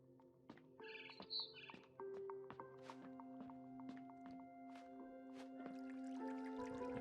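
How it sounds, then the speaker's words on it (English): Barn swallow chirping in What Remains of Edith Finch, quick high tweets and clicks scattered over a sustained tonal ambient bed, quiet and slightly distant. "Then I heard chirping outside my window."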